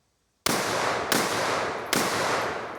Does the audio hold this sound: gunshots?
yes